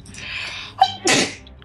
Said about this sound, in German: Gesundheit!